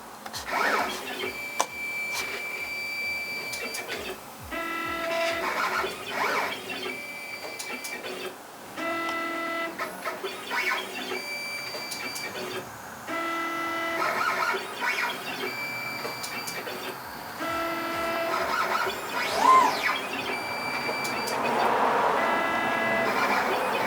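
A plasma cutter machine runs in a garage, giving a continuous mechanical whine and tonal hum with repeated ticking and stepping pulses, steady and fairly close throughout.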